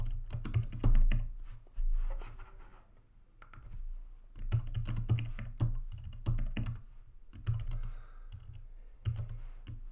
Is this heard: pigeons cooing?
no